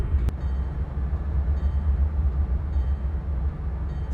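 Steady low diesel rumble inside a virtual GE-9 locomotive cab in a train simulator at speed on a downgrade, continuous and droning with a faint tick near the start.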